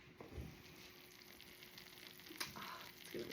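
Spinach artichoke dip bubbling in a home oven gives off a soft, steady sizzle with scattered small pops, faint and close, with no voices.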